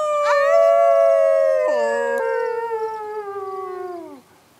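A single wolf howls long and loud, close by. The note rises briefly, holds, breaks into a second tone, then slides down and fades out. No talk is heard.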